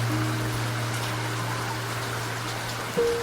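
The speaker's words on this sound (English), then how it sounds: "The rain is the oldest sound" Steady rain patters against a train window at night, a soft continuous hiss over a low, even rumble of the moving carriage, with a brief tonal hum rising near the end.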